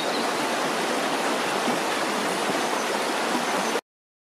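Water of a stream in Carding Mill Valley rushes steadily and close by, a continuous broadband gush that stays even throughout before cutting off abruptly near the end.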